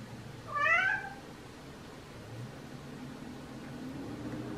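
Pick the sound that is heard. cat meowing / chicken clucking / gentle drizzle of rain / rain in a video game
cat meowing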